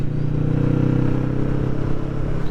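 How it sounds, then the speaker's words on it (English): A car rumbles past motorcycle riders, a Kawasaki Vulcan 650 S and a KTM, on a country road in West Kent, with a steady low engine drone close by and wind noise throughout. "Car coming."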